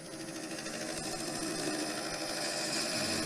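A woodturning tool cuts into a spinning cherry branch on a lathe, giving a continuous, fairly faint rough scraping and whirring, with the motor hum steady underneath.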